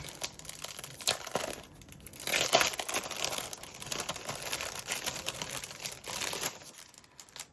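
Paper packaging torn and crinkled during an unboxing, with close, irregular rustling and ripping bursts and a louder tear midway, with no voices over it.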